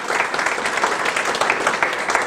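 An outdoor ribbon-cutting crowd in Rotterdam claps steadily, a dense burst of applause sustained at an even level with no voices over it.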